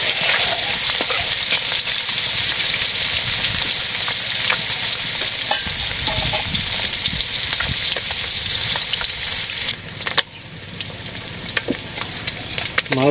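Chaki fish fry in oil with a loud, continuous crackling sizzle and stirring scrapes, and a brief lull near the end before the frying resumes.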